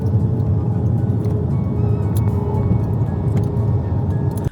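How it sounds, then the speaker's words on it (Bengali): Airplane landing on a runway, heard as a loud, steady low rumble and roar of engine and rolling noise from inside the cabin, with no talk. "এখন প্লেন রানওয়েতে ল্যান্ড করবে।"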